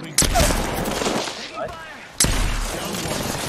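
Gunfire in the video game Apex Legends: dense, loud automatic fire rattling almost continuously, broken by a brief lull before another heavy burst begins.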